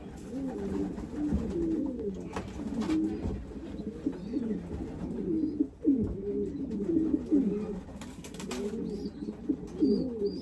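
Young racing pigeons coo repeatedly in a loft, their soft throaty calls overlapping in a steady, close chorus with no one speaking.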